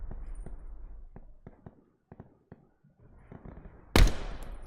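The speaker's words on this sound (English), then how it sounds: "I shot his dick off." Gunfire in the Call of Duty: Black Ops 4 Blackout battle royale, with a scattered series of sharp single shots at varying distances, then a loud close burst near the end.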